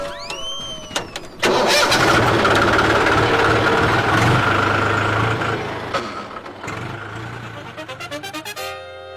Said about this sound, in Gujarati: હવે ટ્રેક્ટર ચાલુ કરો ખેતર ખેડી નાખો